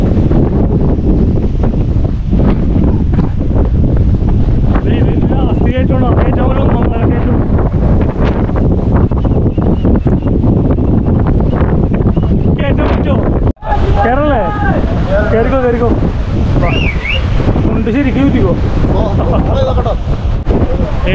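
Strong wind buffets the microphone on an exposed mountain top at Ramakkalmedu in Idukki, a loud continuous roar with gusts throughout, while people talk over it.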